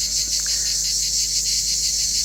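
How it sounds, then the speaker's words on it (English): A loud, continuous high-pitched insect drone with a slight pulsing rhythm, filling the air without pause. "But those times are when the cicadas are at their worst."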